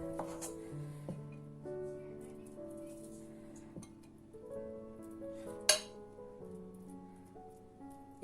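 A small spoon scoops a rice filling for Turkish stuffed grape leaves, giving a few soft metallic clinks and scrapes against a dish, quiet and close.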